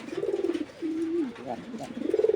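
Tiger trumpeter and Andalusian trumpeter pigeons, a breeding pair, give a close, continuous rolling coo with rising and falling murmurs, loud and unbroken apart from a short dip midway.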